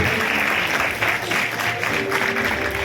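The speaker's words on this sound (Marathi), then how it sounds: "टाळ्यांचा आवाज इतका झाला पाहिजे" An audience applauds prize winners at a short film award ceremony, a dense, steady wash of clapping that holds loud and close throughout.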